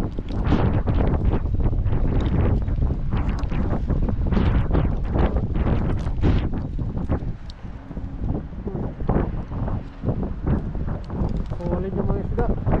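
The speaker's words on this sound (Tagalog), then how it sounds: "Pasensya na po mahangin." Strong wind buffets the microphone on a fishing boat at sea, gusting in loud, uneven bursts that nearly drown out people talking nearby.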